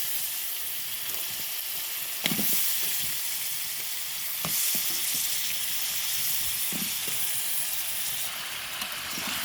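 Pumpkin and prawns fry in a pan with a continuous hissing sizzle. A few scattered scrapes and knocks from stirring stand out above the sizzle.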